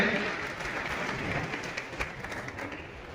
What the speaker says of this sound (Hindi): एक बार बच्चों के लिए जोरदार तालियों से स्वागत करें।